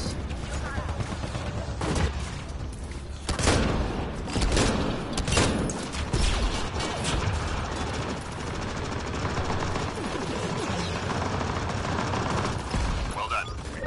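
Gunfire in the Mass Effect video game, heard as bursts of rapid shots with heavier blasts early on, followed by steadier battle noise, with voices speaking over the fight.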